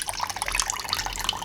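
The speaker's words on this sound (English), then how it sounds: "you can either hang this over your sink and let it drip like this" Whey drips and trickles from cheese curds hung in muslin over a sink, a busy patter of close drops and thin streams, steady and moderately loud with no talking.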